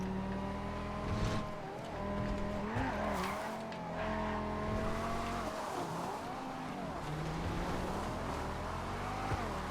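Race cars in a GTA FiveM video game race, engines droning steadily with shifting pitch and brief tire squeals, under game music throughout.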